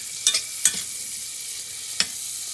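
Eggs fry in a pan for huevos rancheros, a soft steady sizzle broken by three quick utensil taps.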